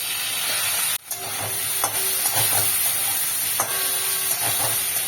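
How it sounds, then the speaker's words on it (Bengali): Chopped tomato drops into a fish and potato curry of foli fish, sizzling with a steady hiss and a few scrapes of stirring, one sharp dip near the start, close and alone without talk. "এবার আমি দিয়ে দিচ্ছি টমেটো কুচি"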